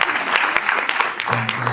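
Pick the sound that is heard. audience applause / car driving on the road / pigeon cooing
audience applause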